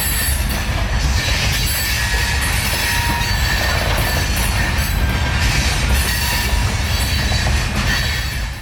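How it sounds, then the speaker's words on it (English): A local freight train hauling a load of rock rolls past at Wildwood, a loud, continuous rumble of heavy cars with wheel squeal and rattling clatter throughout. "First train is A78229, a local train with a trainload of rock to be moved into the Conrad Yelvington"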